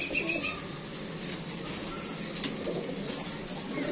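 Domestic pigeons cooing softly in a home loft, low murmuring coos against faint background noise, with a brief sharper sound in the middle.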